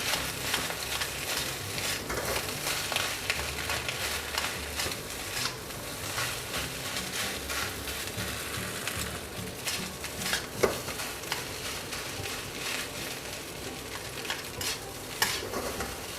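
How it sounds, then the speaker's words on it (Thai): Rice being stir-fried in a pan with Chinese sausage and egg, a steady close sizzle broken by repeated scraping and stirring strokes of a utensil, with no voices. "แล้วก็บีบีข้าวให้มันเข้ากันกับกุนเชียงกับไข่นะครับ"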